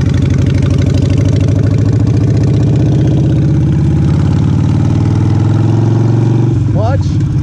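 Custom suicide-shifter motorcycle engine running loud and close, a steady throbbing idle with a rising rev pitch near the end, while someone talks over it.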